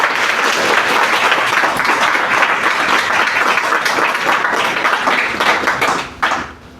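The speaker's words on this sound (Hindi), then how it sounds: "इनकी इस सफलता पर एक बार जोरदार ताली बजा दीजिए" Loud, sustained applause from an audience at an interview event honoring a candidate selected for the Indian Army, dense clapping filling nearly seven seconds before tapering off sharply at the end.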